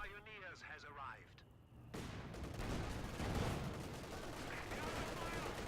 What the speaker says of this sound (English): Panzer IV command tank still shooting into this.